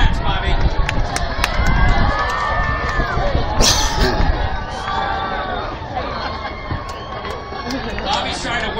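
A crowd at an outdoor cooking throwdown cheers and shouts as hats are tossed to them, lively whoops and chatter rising and falling, with loud nearby voices calling out.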